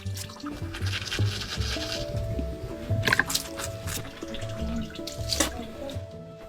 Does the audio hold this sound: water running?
yes